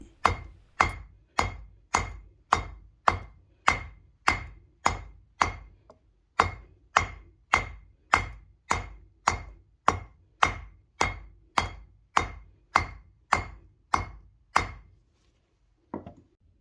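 Steady, rhythmic hammer blows on a copper sheet, roughly two per second with a ringing edge, close by, pausing briefly once and ending with a final strike.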